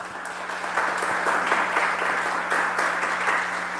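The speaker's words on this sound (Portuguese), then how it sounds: "Podemos aplaudir." Congregation applauding in a church during a novena service, a steady sustained wave of clapping from many people in a reverberant room, with a low electrical hum underneath and no talk.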